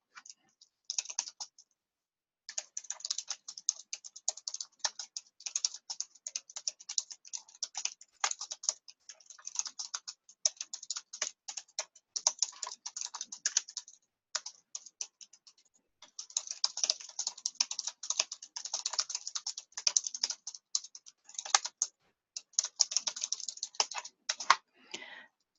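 Fingers type text on a computer keyboard while writing a Word document, producing quick runs of light clicking keystrokes separated by short pauses, close and fairly quiet throughout.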